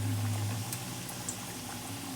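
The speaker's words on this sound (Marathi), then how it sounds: "इथं मी कढईमध्ये तेल पहिलंच तापायला ठेवलं होतं. आता चांगलं तापलेले. आता त्याच्यामध्ये हे रोल सोडून घेते" Chij rolls dropped into hot oil in a wok, giving a steady, soft bubbling sizzle with a low hum underneath, no voices.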